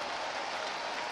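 A crowd at a Red Sox baseball game at Fenway Park sends up a broad, steady roar of cheering and applause, loud and continuous, with no clear voices.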